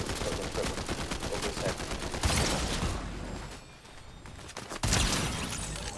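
Rapid automatic gunfire in the video game Fortnite, a dense stream of shots with brief pauses and bursts, loud and close throughout.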